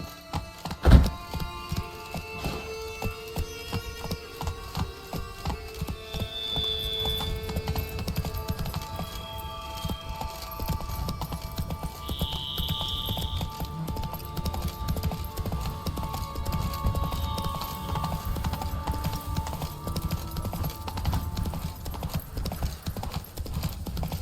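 Roach the horse galloping in The Witcher 3: Wild Hunt, Blood and Wine, a rapid rhythmic clip-clop of hooves that starts after a sharp thud and keeps a steady galloping beat under low game music and ambience.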